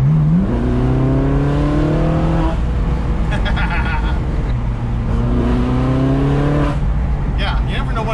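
A Porsche 911 GT3 engine revs up through rising gear pulls, then drops pitch and climbs again after a downshift, heard loud from inside the cabin with people talking over it.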